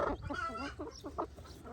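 A hen and her chicks cluck close by in a short burst of repeated farmyard calls, with no talk over them.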